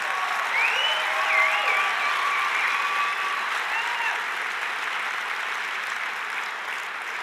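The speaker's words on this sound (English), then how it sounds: "So please, a round of applause for them." Sustained audience applause for presenters closing an Ignite Phoenix evening, a steady wash of many hands clapping at moderate distance throughout, with faint whistles or cheers rising briefly above it.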